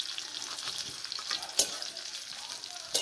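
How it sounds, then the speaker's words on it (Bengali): Cauliflower fries in a pan, a continuous close sizzle with crackling pops and a few sharper stir clicks, no voices over it. "ফুলকপি ভাজা প্রায় হয়ে এসেছে"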